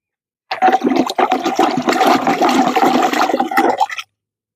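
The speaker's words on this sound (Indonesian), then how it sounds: "Sekarang kita tambah airnya lagi." Water pours steadily into a plant fertilizer mix and is stirred for about four seconds of continuous splashing and gurgling, loud and close, with no talk.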